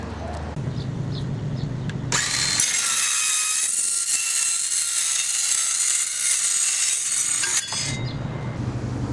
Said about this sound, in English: I've now drilled a hole.